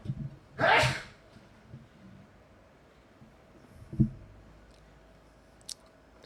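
One sharp, loud sneeze bursts out near the start, followed by quiet rustling, a soft thud and a faint click in an otherwise hushed room.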